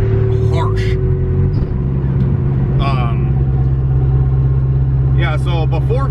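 An AWD Honda Civic with a harsh twin-disc clutch pulls in second gear, its engine a steady, close, droning rumble. Someone talks over it throughout.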